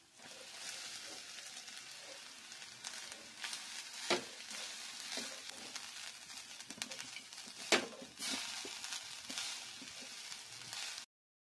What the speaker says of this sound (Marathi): आता आपण याच्यामध्ये ओलं खोबरं देखील टाकून घेणार आहोत, म्हणजे ते पण छान तुपावर परतल्या जाईल